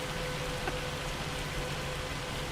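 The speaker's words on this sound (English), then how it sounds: "I didn't realize it would get this loud with hail." Hail storm weather in the video game Farming Simulator 25, a dense, constant hiss of pelting ice that stays loud and even throughout, with no voices.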